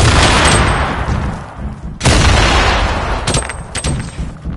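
Loud grenade blasts and rapid gunfire in Fortnite gameplay, with a heavy explosion at the start, another sharp boom at two seconds, and bursts of shots crackling close by afterward.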